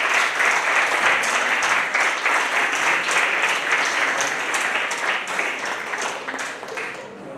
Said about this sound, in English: Can we once again please have a huge round of applause for all the participants and winners?